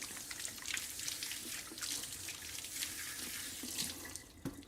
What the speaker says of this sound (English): Give the old hands a little rinse.